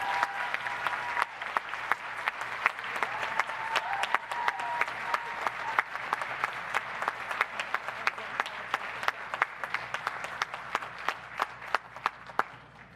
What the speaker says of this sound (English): We thank you, we applaud you, we celebrate you.